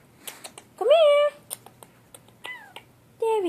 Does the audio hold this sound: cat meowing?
yes